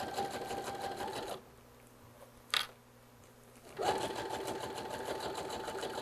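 A sewing machine runs on a summer outfit in two loud bursts of fast stitching separated by a quiet gap with a brief click, with no talk.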